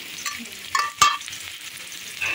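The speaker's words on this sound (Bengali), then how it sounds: "কাঁঠালের তরকারিতে আমি বাগার দিয়ে দিয়েছি" A spiced tempering hits a jackfruit curry and sizzles up close, sputtering with bright crackles and one sharp spike of noise, then falls to a softer hiss.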